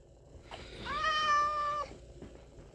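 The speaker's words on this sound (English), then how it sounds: "a cat." A cat in the Spider-Man Miles Morales video game gives one drawn-out, tonal meow of about a second over faint background noise.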